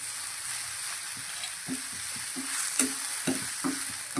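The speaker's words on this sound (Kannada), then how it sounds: "ನಾವು ಕಾಯಿ ತುರಿಯನ್ನು ಸೇರಿಸ್ಕೊಳ್ತಿದ್ದೇವೆ ಸ್ವಲ್ಪ ಫ್ರೈ ಆಗಲಿಕ್ಕೆ ಅಷ್ಟೇ ಮತ್ತು ಅರಿಶಿನ ಪೌಡ್ರು" Grated coconut and turmeric powder fry in a pan for an aloo matar gravy, giving a close, steady sizzle with rhythmic scraping strokes of a stirring spoon.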